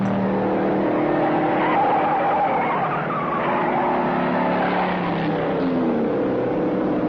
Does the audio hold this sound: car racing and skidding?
yes